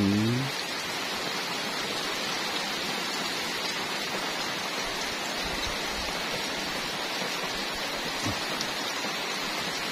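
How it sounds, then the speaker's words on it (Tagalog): Steady, dense rainfall pours down continuously on a farm, a broad hiss of heavy rain with no voices and no pauses. "Lakas na ng ulan."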